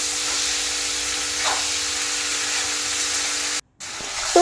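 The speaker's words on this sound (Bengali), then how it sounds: "এরপর কেটে রাখা পেঁয়াজগুলোকেও আমি কষতে দিয়ে দিলাম।" Chopped onions sauté in hot oil with bay leaves, whole cardamom, cinnamon and cloves, giving a steady, moderate hiss that briefly cuts out near the end.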